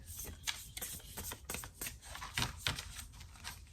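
A 78-card tarot-style deck with a matte finish is shuffled by hand, giving a faint, close run of quick crisp riffling and tapping clicks in irregular bursts, with no voices.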